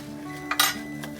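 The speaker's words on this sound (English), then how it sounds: "I'm just gonna stir it." Spoon clinking against a pan while carrot halwa with cashews is stirred, two or three short bright scrapes and clinks over a quiet steady background, no talking.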